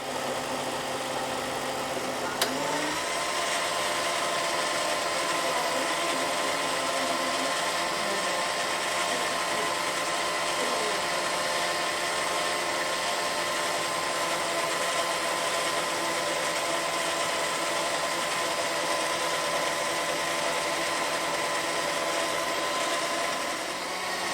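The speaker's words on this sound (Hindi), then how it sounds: "ये 5 से 7 मिनट के लिए इसको अच्छी तरह इसी में ग्राइंड होने देंगे मैंगो पर्ल को" A kitchen grinder runs at a steady high whine for several minutes' worth, churning mango pearls into liquid for homemade mango ice cream, starting after a click and holding constant throughout.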